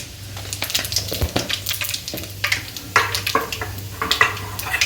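Loud, close sizzling of cumin seeds in hot oil, crackling and popping in bursts as a spoon stirs the pan.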